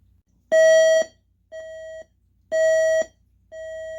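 A Realistic Chronomatic 260 alarm clock sounds its alarm in four half-second electronic beeps, one per second, alternating between a louder and a softer tone. The beeps are close and clear, with no talking.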